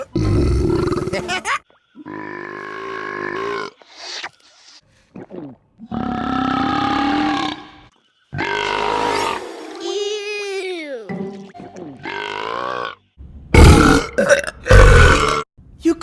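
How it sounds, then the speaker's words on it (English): Cartoon dinosaurs let out a series of long, loud, gravelly burps and grunts, about eight separate bursts with short gaps, ending in rapid rough blasts. "You call that a burp?"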